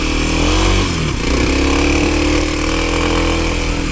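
A Kawasaki KLX 300 dirt bike engine drones steadily and loudly up close while the rider holds a climb up a steep sandy hill, its pitch shifting slightly, with no talking.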